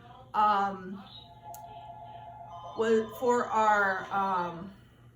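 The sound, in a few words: phone ringing with incoming calls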